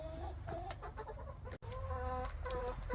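Chickens cluck steadily around a winter coop during a storm, a busy flock of overlapping calls close by with a brief dropout partway through.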